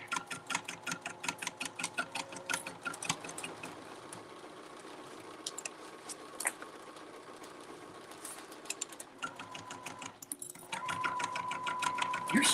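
A Bernina sewing machine runs in rapid rhythmic bursts of fast ticking stitches, pausing and restarting, fairly quiet and close with a slight mechanical hum between runs.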